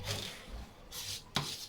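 A professional serrated knife saws through a creamy lemon and caramel dessert, giving soft scraping strokes, a quiet rubbing pass and then two sharper cuts close by, with no talking.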